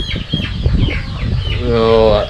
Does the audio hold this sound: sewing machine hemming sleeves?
no